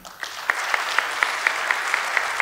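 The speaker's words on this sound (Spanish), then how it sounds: "El aplauso para Andrés Chamboleirón" Audience applause after a talk on energy restriction at an anniversary conference, continuous moderate clapping with a regular pulsing beat of sharper claps, as if part of the crowd claps in rhythm.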